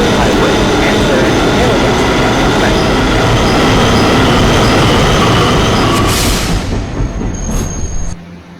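A local train runs along the railroad, a loud continuous rumble of wheels and carriages close by for most of the time, fading and thinning toward the end as a brief high squeal rings out.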